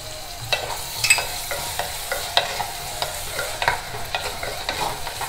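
Onion, tomato and turmeric sauté in a pan for an eggplant and field bean kuzhambu, with steady sizzling and repeated spoon-stirring scrapes close by, no talking.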